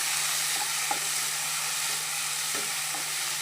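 Chopped tomatoes sautéing in a pan for a prawn curry with raw mango, a steady close sizzle with a few soft stirring scrapes and a low constant hum underneath.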